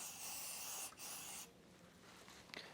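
A short aerosol spray of penetrating oil hisses from a can in two bursts, followed by quieter rustling and a small clink.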